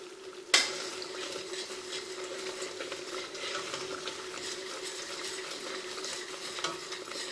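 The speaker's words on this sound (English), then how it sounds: "you want to make sure you keep stirring it because at this point you could scorch it" Foamy, sweet vegan protein bar mixture stirred in a pot, opening with a sharp clank of spoon on metal, then a continuous bubbling sizzle and scraping strokes, close and even throughout.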